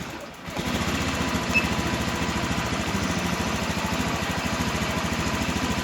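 A Honda Beat FI fuel-injected scooter engine runs just after starting, a steady, close idle with an even, rapid pulsing beat that holds for about six seconds without speech.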